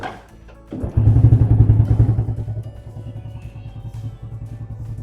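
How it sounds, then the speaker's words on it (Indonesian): A fuel-injected motorcycle engine cranks briefly, catches and settles into a loud, close, pulsing idle that gradually eases in level. "Kita nyalakan motornya."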